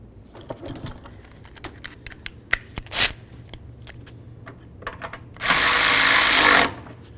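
Engine mount nut on a 2007–12 Nissan Sentra being snugged up by hand with a ratchet: a run of small clicking and metallic taps, then a loud steady whirring burst of about a second from a power tool near the end.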